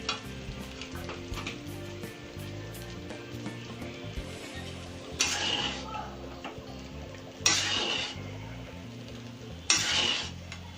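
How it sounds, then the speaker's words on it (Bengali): Fried eggs being stirred into a pan of cooking food, with soft steady sizzling and a few louder bursts of spatula scraping against the pan. "ডিমগুলো ভেজে রেখেছিলাম, ডিমগুলো আমি এতে ছেড়ে দিচ্ছি। এবার একটু নাড়াচাড়া দিয়ে"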